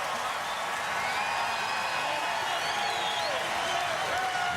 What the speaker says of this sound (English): And the cheer from the crowd as the command riders up